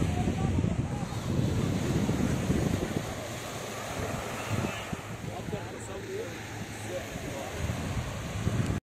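Waves breaking on the beach at Montaza Bay in Alexandria, Egypt, on a summer day: a steady, close wash of surf mixed with wind buffeting the microphone, continuous with no clear gaps.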